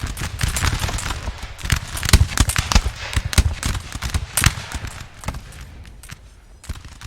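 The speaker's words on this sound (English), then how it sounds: "look at the gunfire that's going off." Dense crackling volleys of musket fire from a Napoleon: Total War battle of Arcole, 1796, irregular shots overlapping loudly before thinning out toward the end.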